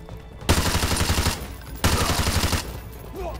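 Two sustained bursts of rapid automatic gunfire from Call of Duty: Modern Warfare 2 Remastered, each lasting about a second, loud and close, with a brief lull between them and no talking.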